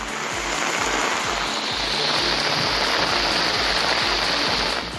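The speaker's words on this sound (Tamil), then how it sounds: "பரவலாக மழை பெய்தது" Widespread rain falling over coastal Tamil Nadu areas, a steady dense hiss of drops on surfaces that holds at an even, loud level throughout, with no voices.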